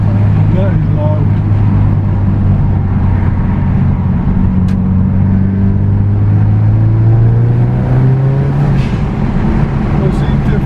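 A Subaru Impreza STI with an aftermarket dump valve runs loud and close, its low engine drone rising and falling steadily through the stretch.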